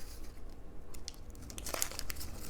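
Crinkling and crunching of folded origami paper being opened up, soft rustles building into a brisker burst of crisp paper crackles near the end, close and fairly quiet with no talking.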